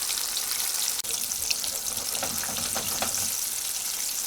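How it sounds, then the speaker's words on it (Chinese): Chicken wings deep-frying in oil heated to 180 degrees produce a continuous close hiss with scattered crackles and one sharp dip early on, with no voices. "油温已经到180了，我们加入鸡翅。 炸鸡翅以后先不要动，等它定型了以后再动。"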